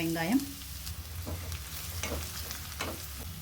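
Chopped onion sautéing in a pan with ginger and garlic, a soft steady sizzle broken by a few spatula scrapes, close and fairly quiet.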